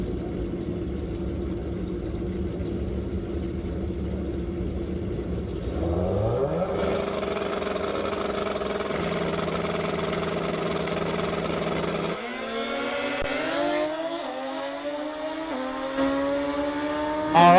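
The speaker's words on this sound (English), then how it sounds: "couple of older machines, a Hayabusa and a Kawasaki making battle" An older Suzuki Hayabusa and a Kawasaki motorcycle race side by side at a drag strip during ET finals. Loud engine drones climb steadily in pitch through the gears, ending in a high, rising scream.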